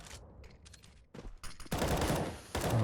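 Rapid bursts of automatic rifle fire and single gunshots in a Counter-Strike match on Dust2 during a professional ESL Pro League qualifier, loud and close, with intense sustained fire in the final second.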